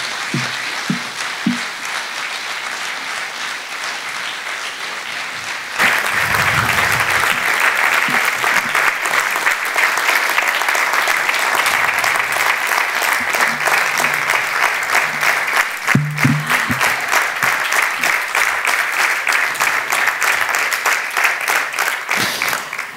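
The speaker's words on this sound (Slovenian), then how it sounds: "tudi tale aplavz ni bil namenjen meni" Sustained applause from an audience at a commemoration marking the 80th anniversary of Kajuh's death, a dense steady wash of clapping that swells louder partway through and carries on to the end.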